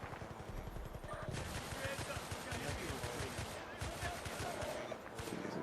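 Rapid bursts of automatic gunfire in a Battlefield shooter, loud rattling volleys repeating steadily through the clip over a busy battlefield din, with a voice talking faintly underneath.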